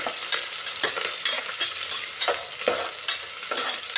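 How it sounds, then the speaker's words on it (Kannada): Onion and curry leaves frying in a pan, a continuous close sizzle with regular scraping strokes of a spoon stirring through it, no talk. "ಈರುಳ್ಳಿ ಹಾಕ್ತೇನೆ ಕರಿಬೇಸೊಪ್ಪು ಕರ್ಬೇ ಸೊಪ್ಪು ಹಾಕ್ಬಿಟ್ಟು ನಾವು ಸ್ವಲ್ಪ ಇದನ್ನು ಫ್ರೈ ಮಾಡ್ತೇವೆ"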